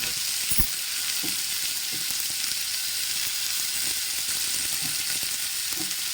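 Red chili powder with ginger-garlic and green chili paste sizzles steadily in a hot pan for a spiced pea rice, a constant close frying hiss broken by a few soft stirring clicks, with no talking.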